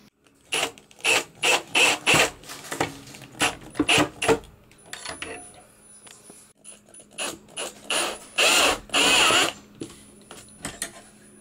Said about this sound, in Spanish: Entonces voy a poner los tornillos